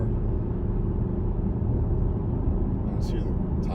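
An Infiniti Q50 with a 3.7-litre VQ engine and Invidia Gemini exhaust cruises in fourth gear at about 60 mph, with a low, constant engine drone and road rumble, tire noise nearly as prominent as the engine.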